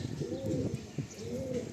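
Pigeons of a Madrasi breed cooing in a loft in Kolkata, soft repeated throaty coos close by with faint chirps, quiet and continuous.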